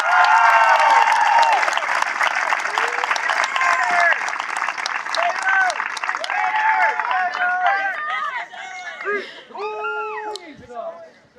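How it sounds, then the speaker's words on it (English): An audience at a 2022 graduation ceremony applauds its teachers, with dense, sustained clapping and some cheering that gradually thins out and fades toward the end. "I would like us all to give them a big round of applause."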